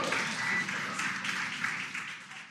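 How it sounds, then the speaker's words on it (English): Crowd cheering and applauding during a SpaceX capsule splashdown returning two NASA astronauts, a steady wash of distant clapping and cheers throughout at moderate level. "You can hear the crowd here"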